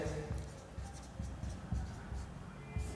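Chalk scratching on a classroom board in short strokes at low volume, quiet and close, with brief pauses between the marks.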